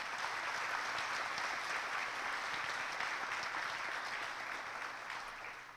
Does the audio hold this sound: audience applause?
yes